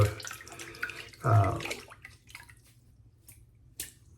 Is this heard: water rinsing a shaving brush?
yes